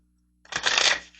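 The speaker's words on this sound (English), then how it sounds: "let's grab some love cards." A deck of tarot cards being shuffled, a single close riffle of crisp papery flutter lasting under a second after silence, with no talk.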